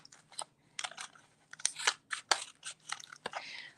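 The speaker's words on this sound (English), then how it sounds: "I'm going to bring in my scissors and I'm going to cut some more of my dimensionals in half" Scissors make several short, crisp snips through paper dimensionals in an uneven series, close and fairly quiet, with small rustles of paper between cuts.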